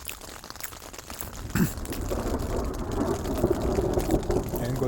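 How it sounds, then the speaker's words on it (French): Thunderstorm in the mountains near the Camporells: steady rain patters close by, a low thunder rumble swells partway through, and the downpour grows denser and louder toward the end. "l'orage se calme pas"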